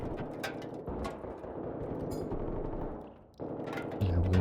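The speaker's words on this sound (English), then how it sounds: "we'll be heading towards that sound of gunfire" Sustained gunfire in the video game S.T.A.L.K.E.R. 2: Heart of Chornobyl, dense overlapping shots crackling continuously at a moderate distance, with a brief lull near the end before heavier, louder bursts resume.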